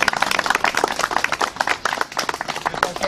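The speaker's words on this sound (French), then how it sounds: "Donc on peut les applaudir." An outdoor crowd at a Verdun commemoration applauds a band, dense overlapping claps continuing steadily and fairly close for several seconds.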